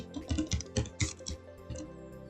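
Close typing on a computer keyboard running Windows 10, a quick uneven burst of about a dozen clicky keystrokes followed by a few sparser taps, with no talking.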